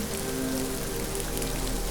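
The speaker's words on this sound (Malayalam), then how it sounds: "എന്നിലേക്ക് പെയ്തിറങ്ങുന്ന ഈ മഴയുടെ ഓരോ തുള്ളിയും" Rain falls steadily, a dense, even hiss of drops on surfaces with no other sounds standing out.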